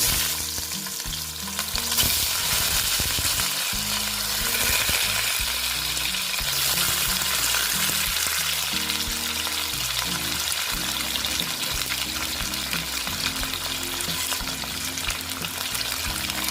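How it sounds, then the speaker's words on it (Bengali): Tilapia pieces rubbed with salt and turmeric fry in hot oil, a dense, steady crackling sizzle that runs close and loud throughout, with occasional stirring and no voices. "মাছগুলো আমি ভেজে নিচ্ছি এটা কী মাছ জানো এটা হলো তেলাপিয়া মাছ"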